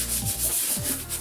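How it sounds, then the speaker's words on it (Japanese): A kitchen sponge scrubs the underside of a plastic bath stool crusted with soap scum and mold, giving a close, steady rubbing rasp in repeated back-and-forth strokes with no talk. "裏側は毎日取り替えキッチンスポンジ使っていきますね。"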